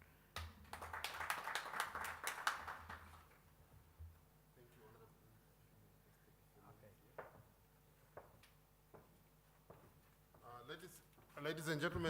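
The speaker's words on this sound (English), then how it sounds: "let's give another round of applause to the Republic of Madagascar" A conference audience at a sustainable energy week gives a short burst of scattered clapping that fades after a few seconds, followed by quiet room sounds, speech, and a second brief round of claps near the end.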